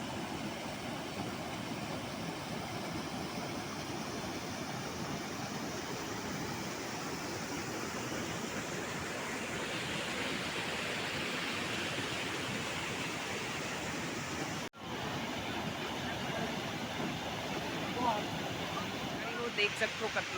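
Floodwater in the Shivnath river rushes in a dense, continuous roar, loud and close, with a brief dropout midway and a few faint sounds near the end.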